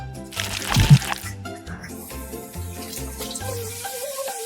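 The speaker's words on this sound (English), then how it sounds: "You need to wash your hands with soap." Water runs from a tap while a child washes her hands with soap, a broad splashing rush early on that settles into a softer, steady flow, with music playing underneath.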